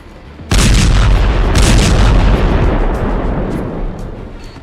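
A sudden massive blast from an intercontinental missile striking the city of Dnipro, Ukraine, erupts after a brief quiet, followed by a long, loud rumbling roar that slowly fades.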